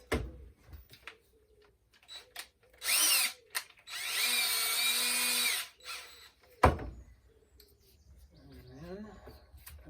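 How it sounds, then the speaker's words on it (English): A power drill with a 1/16-inch bit whirs in a few short bursts while drilling holes in a Flow Hive 2 base, with one longer steady run, amid clicks and handling noises; faint bird chirps sound in the background. "I forgot to drill 2 of those holes"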